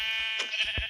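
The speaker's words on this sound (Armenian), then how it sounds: "մի հատ է ոչխար" A sheep in a video game bleats in one short, clear bleat, close and alone.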